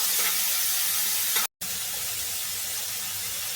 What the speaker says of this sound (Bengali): এবার আমি এর মধ্যে দিয়ে দেবো আগে থেকে কুচিয়ে রাখা টমেটোগুলো দিয়ে দিয়েছি। এভাবে নাড়াচাড়া করবো।